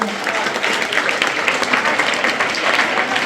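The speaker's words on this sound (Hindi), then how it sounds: "जोरदार तालियां" Loud, dense clapping from a crowd at a school Republic Day program, continuous and energetic throughout, with a few voices blending into the noise.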